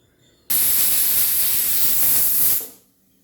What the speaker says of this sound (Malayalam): പ്രഷർ കുക്കറിൽ ഒരു വിസിൽ കേൾക്കുമ്പോൾ ഹൈ ഫ്ലെയിമിൽ ഒരു വിസിൽ കേൾക്കുമ്പോൾ ഓഫ് ചെയ്യുക